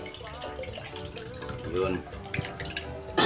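Water splashes and trickles as tomato seeds are washed by hand in a container, a continuous close liquid sloshing with a person speaking over it.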